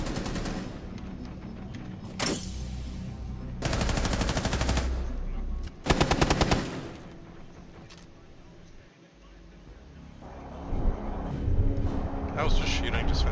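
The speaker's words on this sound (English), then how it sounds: "I was just shooting, just for the heck of it." Bursts of automatic gunfire in a Rainbow Six Siege team deathmatch hostage match on the Consulate map, several loud sustained volleys separated by quieter game ambience.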